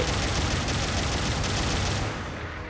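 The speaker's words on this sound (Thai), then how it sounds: "อย่างแรกเป็นปืนกลที่แขนมีทั้งหมด 80 นัด ยิงออ กไป 2 นัด" An arm-mounted machine gun firing in Gundam Battle Operation 2, a dense rapid burst of loud mechanical gunfire that runs continuously before tapering off near the end.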